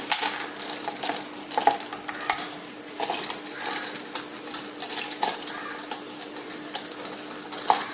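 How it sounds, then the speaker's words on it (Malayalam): A spoon stirring and pressing lemon and mint for iced tea, producing light clinks and taps against a glass or vessel at an irregular pace over a faint background hiss. "ഇനി നമുക്ക് സ്പൂണും കൊണ്ട് നല്ലോണം ഒന്ന് ഇളക്കാം കേട്ടോ."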